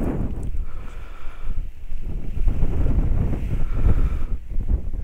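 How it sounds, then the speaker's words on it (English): Strong gusty wind buffets the microphone with a steady low roar while a paramotor wing is kited on the ground in winds of 15 gusting 25 mph, surging and easing in waves with no voices. "See, wind tried to take it."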